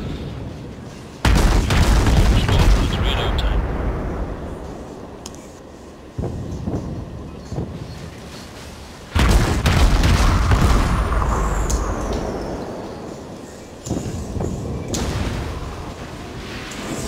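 Naval gunfire in World of Warships: heavy booming salvos strike at intervals, each a loud blast that rumbles and decays over several seconds, with faint background hum between shots.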